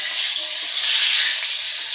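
Hot oil sizzling in a pan right after fish has been fried, a steady close hiss with faint stirring, no voices.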